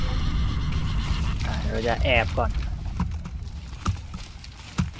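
A Mongol horseman's horse from Ghost of Tsushima whinnies with a rising, wavering neigh and passes with clip-clopping hooves under a man's speech, ending in a few sharp hoof knocks.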